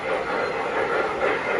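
Model trains run on a track, a steady close rolling rumble with a faint rhythmic clatter of wheels throughout.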